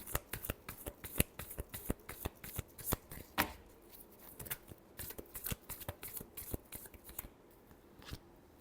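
Tarot cards being shuffled by hand, a quick series of crisp riffling slaps and flutters repeating through the clip, close and fairly quiet.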